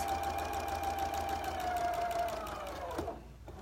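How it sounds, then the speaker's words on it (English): A sewing machine runs a quarter-inch seam along quilt pieces, a steady close whirring hum with a rapid needle clatter that winds down and stops near the end. "I'm going to do my 1/4 inch seam allowance"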